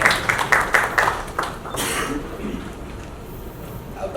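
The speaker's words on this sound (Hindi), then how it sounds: "जोरदार ताली हो जाए" An audience at a wedding event claps for Himansh Kohli and Anushka Sen on stage, a quick run of rhythmic claps that fades into softer scattered clapping and murmur.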